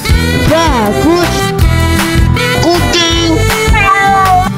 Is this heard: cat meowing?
yes